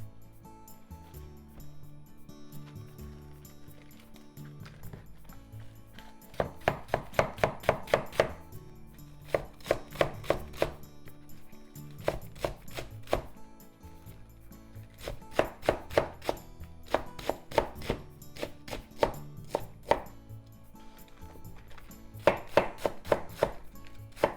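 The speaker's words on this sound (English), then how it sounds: "The bottom half into thin diagonal slices and the top half into 1-inch slices." A knife cuts napa cabbage on a board with the core removed, bottom half in thin diagonal slices and top half in inch-wide pieces, giving rapid, close bursts of crisp chopping taps separated by short pauses.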